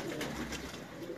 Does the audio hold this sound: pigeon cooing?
yes